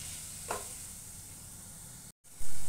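Chopped tomato frying with masala in a pan for shaljam sabzi, a steady close sizzle with one brief stirring scrape, a sudden cut of silence and then a louder burst of hiss.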